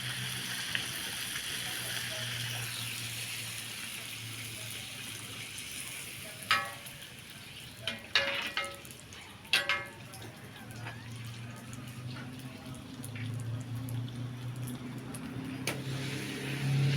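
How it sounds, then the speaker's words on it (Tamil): Puri deep-frying in hot oil makes a continuous soft bubbling sizzle, broken by a few sharp clinks and scrapes from a utensil, with faint background noise. "பூரி ஸ்விம் அடிக்குது எண்ணெயில்"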